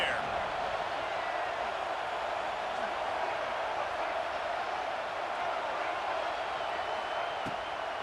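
Steady broadband stadium crowd roar in the College Football 26 video game, a continuous dense wash of many voices holding constant for the whole stretch at moderate level, with no clear single voice standing out.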